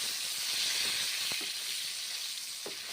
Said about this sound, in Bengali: ভেজে নিচ্ছি পটল